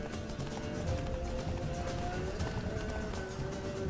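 Horse galloping in The Witcher 3 video game, rapid rhythmic clip-clop of hooves on hard ground, close and continuous with a brief whinny, no talk over it.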